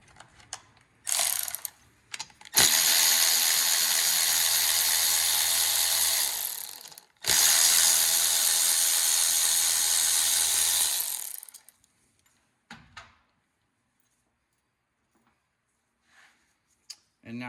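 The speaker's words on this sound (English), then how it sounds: "Need to remove 10mm bolts here." A ratchet wrench loosens 10mm bolts on a Honda Hawk 250 engine in two long, steady clicking runs of about four seconds each. The clicking is close and clear, with brief handling noises before and after.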